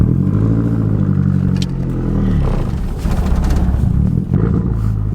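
A lowered MazdaSpeed3 with an upgraded bigger turbo and Cobb mods runs close by, its loud throaty exhaust rumbling and revving with a few crackling pops.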